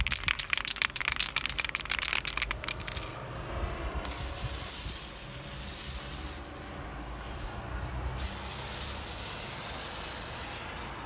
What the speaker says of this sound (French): A tout de suite avec le bruit trop satisfaisant de la bombe.